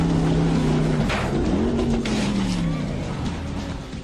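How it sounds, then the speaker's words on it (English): Engine roar from a modified jet boat racing on a river, its pitch sweeping up and down as it accelerates and makes hairpin turns, loud and close. "Specially designed jet boats were modified for the sequence to allow the boats to make hairpin turns"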